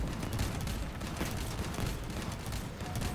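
Dense, continuous barrage of vehicle weapon fire and blasts in the Crossout combat game, loud and steady throughout without a break, with no voices.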